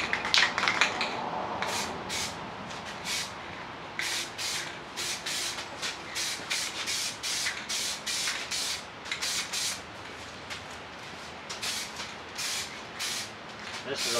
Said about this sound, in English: first coat of clear coat going on our rack